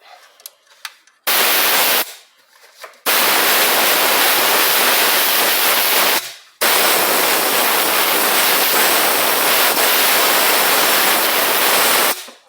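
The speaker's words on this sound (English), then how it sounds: "So we'll just blow those sensors out." Compressed air blasts out of the transmission sensor ports on a Volvo V50 Powershift dual-clutch gearbox, a loud, close hiss in long bursts of several seconds separated by brief pauses.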